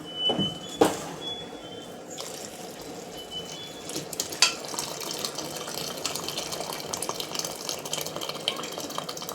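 Water is poured from a vessel into a pot of rasam during cooking, a faint, quiet splashing and trickling that runs continuously with a few sharper clinks, and no talking.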